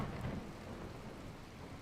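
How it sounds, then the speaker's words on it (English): Heavy torrential rain in the racing game Assetto Corsa Competizione, heard from the cockpit with wipers running: a steady, dense hiss of downpour with low rumbling, constant throughout and without talk. "if it's supposed to be torrential rain"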